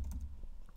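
Faint, quick taps of a computer keyboard as an email address is typed, a brief cluster of soft clicks with no talk.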